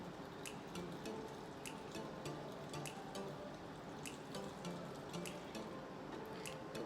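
Rainwater poured into a seed starting tray for bottom watering, heard as a steady close trickle and splashing with scattered small drips throughout.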